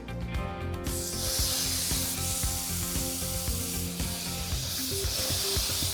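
Burgers sizzling on a NomadiQ portable propane gas grill, a steady close hiss of frying that swells after the first second and continues over soft background music.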